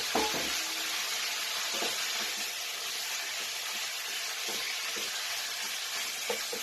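Chicken liver and gizzard sizzle steadily in a hot pan with garlic and ginger, a loud continuous frying hiss with a few soft stirring knocks and no talking.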